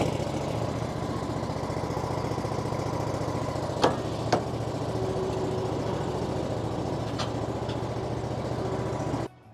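A John Deere Z740R zero-turn lawn mower engine runs steadily nearby, a constant low mechanical drone with a couple of brief clicks partway through before cutting off at the end.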